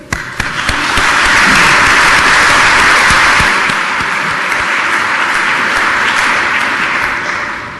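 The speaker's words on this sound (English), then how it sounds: "let's clap for who gave us the money." A large audience at a University of Greenwich graduation award ceremony bursts into loud, sustained applause, dense and continuous for several seconds before tapering slightly at the end.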